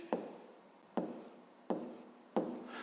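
Pen strokes on paper while a maths exercise for fifth grade is written down: four separate scratchy writing bursts, each starting sharply and trailing off, close and quiet, with no voices.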